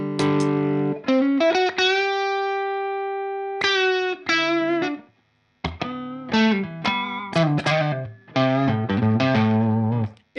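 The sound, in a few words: guitar through overdrive pedal, thick chewy tone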